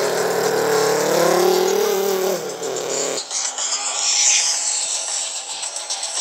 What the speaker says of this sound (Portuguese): Olha só esse comercial, gente! Corrida de carros!